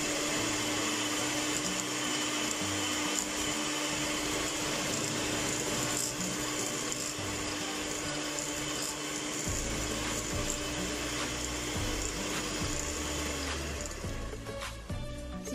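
An electric mixer runs nonstop, beating egg yolks, milk, oil and flour into cake batter with a loud whirring drone and some rattling from the beaters, close by and holding steady throughout.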